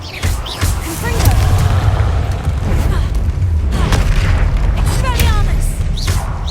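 Fiery Confringo spell blasts in Hogwarts Legacy, a loud booming explosion rumbling over a busy combat soundscape of crackles and bursts, with a voice calling out during the fight.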